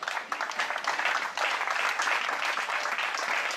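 A church congregation applauds in Libreville, Gabon, steady loud clapping from many hands filling the room for the whole stretch, with no voices over it.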